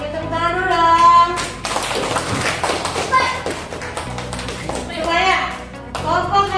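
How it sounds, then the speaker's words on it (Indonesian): A class of students claps in quick rounds inside a classroom, with children's voices and chatter mixed in close by. "tepuk tangan dulu dong"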